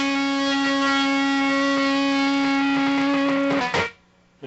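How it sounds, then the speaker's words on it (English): Electric guitar played through a Z-Vex distortion fuzz pedal, a single sustained buzzy fuzz chord ringing loud for several seconds before cutting off abruptly. "I have it set up for an almost normal distortion fuzz tone right now"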